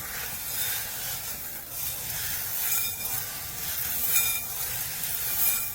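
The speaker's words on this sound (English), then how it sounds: "All right, now we're gonna mix it." Crystal confetti being stirred in a big bowl gives a steady, dense rattling hiss with soft swells, continuous and fairly close throughout.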